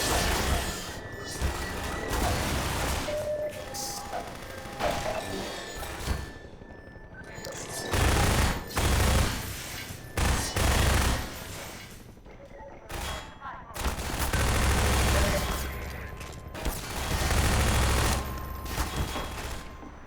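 Rapid bursts of automatic and single-shot gunfire in the video game Half-Life 2, loud and dense with crashes and booms layered over game noise, while someone talks intermittently.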